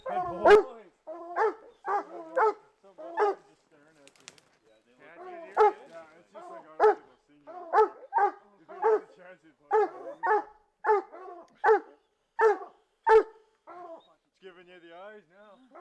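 Hunting dogs on a cougar hunt bark repeatedly in steady bursts, close and loud, with a man calling encouragement between the barks.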